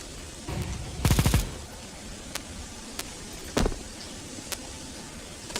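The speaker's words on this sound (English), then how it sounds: "Deploying flashbang." A flashbang goes off in a video game: one loud, sharp burst with a brief crackling tail, then a smaller thump and scattered faint clicks over low background hum.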